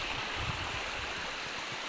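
A stream at a backpacking trail water crossing on the Martar Trail rushes steadily, a close, continuous broadband wash of flowing water with no voices.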